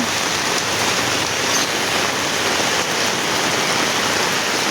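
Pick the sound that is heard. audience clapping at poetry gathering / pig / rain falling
rain falling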